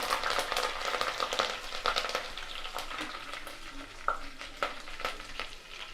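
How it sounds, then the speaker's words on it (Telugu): Slit green chillies and two sprigs of curry leaves frying in hot oil for plain biryani, a continuous close sizzle with crackling bursts and occasional stirring scrapes, no voices. "పచ్చిమిరపకాయలు ఒక నాలుగు మధ్య కట్ చేసి పెట్టుకున్నాను కరేపాకు రెండు రెమ్మలు అవి కూడా కొంచెం ఏగే వరకు చూద్దాం"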